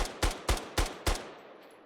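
An MPT-76 rifle fires in the Squad video game, five sharp, heavy shots at an even, fairly quick pace, close and punchy, with a short fading tail after the last round.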